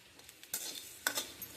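Peppercorns, cumin seeds and fenugreek seeds are tipped into a pan and stirred, giving soft scraping and stirring with a couple of sharper rattling bursts as the whole spices land. No one speaks.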